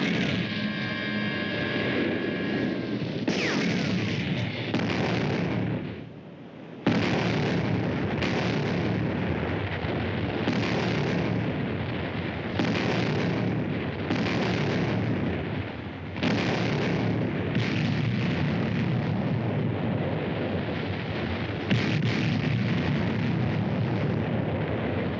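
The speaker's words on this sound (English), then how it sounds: "The British artillery are hitting our positions. They are hitting right on the button." Heavy, continuous British artillery bombardment and shell bursts striking positions on the Mareth Line in the North African desert, a dense, loud wall of booms and blasts that barely lets up, with repeated sharper impacts throughout.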